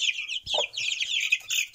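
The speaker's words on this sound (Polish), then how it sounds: "Teraz wpuścimy kurę, bo już się tutaj głośno robi" Chicks peep in a busy, high-pitched chorus around a hen let back into their farmyard pen, with a low cluck from the hen near the start, close and continuous for under two seconds.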